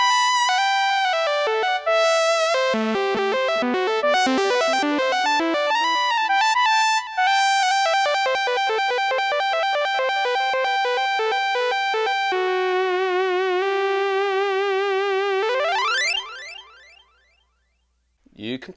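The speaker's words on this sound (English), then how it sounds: "Proper mono synth sound." Nord Piano 5 mono synth patch playing bright, buzzy single-note lines in fast runs, ending on a held note that bends and wavers before fading out.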